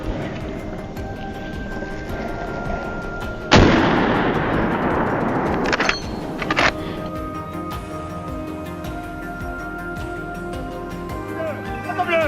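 Rifle shot fired from a helicopter at wild boar, one sudden loud blast cutting through the steady roar of the rotors and engine, followed by a couple of fainter knocks.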